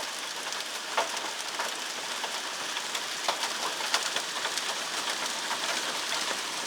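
Hail pelting down in Connecticut, a steady dense crackle of ice striking outdoor surfaces with scattered sharper impacts, continuous and fairly loud throughout, with no voices.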